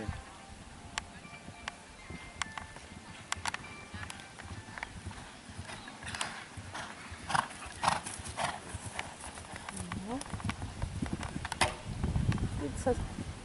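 Horse hooves clip-clopping around a 130 cm show jumping course at an outdoor competition, a steady cantering rhythm of thuds with occasional snorts, heard at moderate distance under scattered spectator chatter and commentary.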